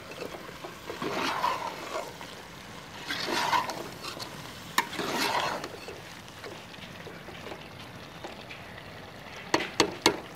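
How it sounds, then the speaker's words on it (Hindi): Spoon stirring potatoes into palak chicken frying in a pot in a village kitchen, giving soft scraping swishes over a low sizzle, with a few sharp clinks of the spoon against the pot near the end. "अब इसमें आलू शामिल करेंगे। और इसको अच्छी तरह से मिक्स करेंगे।"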